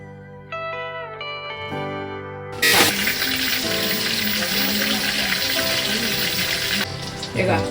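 Chopped fenugreek leaves land in a hot pan for methi matar pulao, setting off a loud, steady sizzle and hiss that runs on for several seconds after a few soft clinks and taps at the start.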